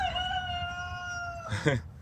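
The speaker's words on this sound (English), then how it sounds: "That's Carl, my rooster. He doesn't shut up all day" A rooster crows once, a long drawn-out call that breaks into a rougher ending, fairly close with faint background noise.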